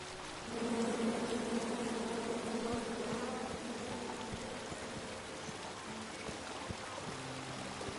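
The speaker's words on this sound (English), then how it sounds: "Come at me, bees!" Angry bees swarm in the King's Quest video game, a steady continuous buzzing drone that holds loud and close throughout, with no voices over it.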